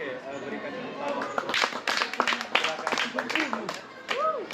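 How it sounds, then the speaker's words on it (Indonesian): Students in a physical-education classroom clap for a group presentation, producing a scattered patter of hand claps that builds and thins again, mixed with chatter and voices. "Oke, berikan tepuk tangan."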